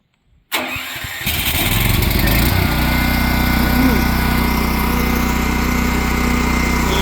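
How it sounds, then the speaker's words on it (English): Champion dual fuel generator cranking on battery start, catching within a second, then running steadily on gasoline with a loud, close, even engine roar that settles into a constant drone. "It's running on gasoline."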